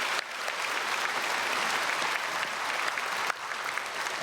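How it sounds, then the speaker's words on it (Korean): Sustained applause from a church congregation welcoming newly registered members at a Sunday worship service, steady and full for several seconds with no voices over it. "오늘 3부 예배에 등록하신 분이 계십니다. 크게 박수로 환영하겠습니다."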